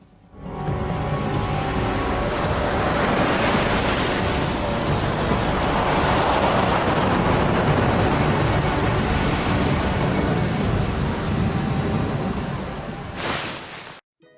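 Rushing whirlpool water from the video game Ōkami, a dense continuous roar of churning sea water that holds steady and loud for most of the stretch before cutting off abruptly near the end.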